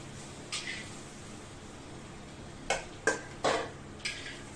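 Fried potatoes are lifted out of a heavy brass karahi with a few faint metallic clinks and scrapes, spaced apart against a quiet room.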